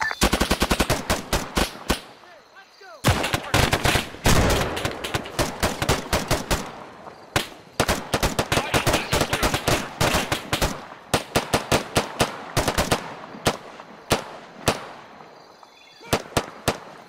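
Machine-gun fire from the ArmA 3 military shooter rattles out in rapid sharp bursts. Loud volleys are split by short pauses, with some scattered single shots and no voices.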